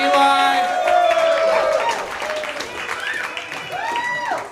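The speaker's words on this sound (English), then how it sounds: "Keep clapping for Eli, everybody." A comedy club crowd applauds and cheers for a comedian, with whoops and shouts over steady clapping that tapers slightly as voices call out.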